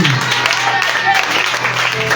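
A church congregation claps and acclaims Jesus, dense steady applause mixed with raised voices all through the short stretch.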